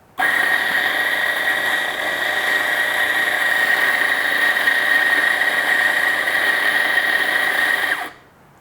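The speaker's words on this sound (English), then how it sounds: "first let's grind the beans" An electric coffee grinder grinds beans in one steady, loud whine that starts abruptly, holds for about eight seconds close by, then cuts off.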